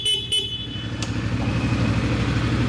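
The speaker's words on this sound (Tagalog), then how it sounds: "Busina ito." Horn of a 2024 CF Moto 450 SR motorcycle, a steady bright electric tone sounding over a low idling engine rumble, close and fairly loud for about three seconds.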